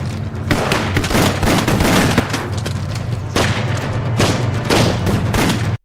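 Gunfire in a film shootout between a police officer and gangsters, loud dense booming shots and bursts layered over a rumbling action soundtrack, continuous and close.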